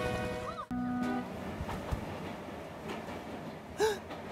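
A cartoon train runs along the track with steady rumbling and rattling, a short whistle-like toot near the start and another near the end, under a brief shouted voice.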